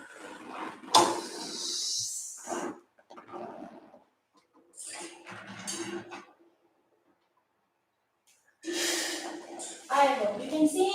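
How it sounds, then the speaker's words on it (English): Forceful exhaled breaths during a Pilates trapeze workout come in loud bursts with quiet pauses between them, a heavy whooshing exhalation near the microphone at the start and end. "Exhale."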